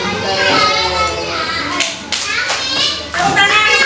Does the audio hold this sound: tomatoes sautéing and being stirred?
no